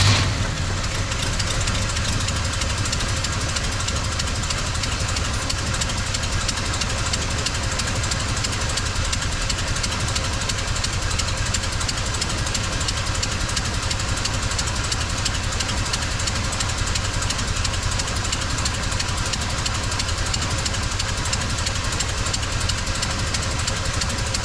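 A tow truck engine, just fitted with new spark plugs, runs rough with a steady knocking, uneven idle that carries loud and close throughout, with no talk over it.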